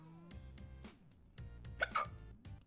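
One sharp human hiccup pops out near the middle, short and close, over steady background music.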